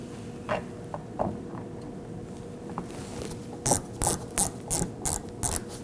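A ratchet tightens a T15 Torx screw on a 2018-2024 Chevrolet Equinox rear panel. A few faint clicks come first, then six crisp, evenly spaced ratcheting bursts close by, with no talking.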